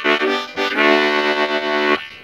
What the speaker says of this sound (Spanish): La armónica de sol del rango estándar suena así.